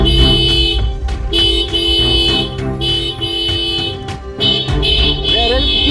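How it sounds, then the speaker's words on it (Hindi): Loud vehicle horns honk in long sustained blasts with brief gaps, a dense tonal blare filling the street scene around a parked scooter. "ये इतने तेज हॉर्न कौन बजा रहा है मिनी?"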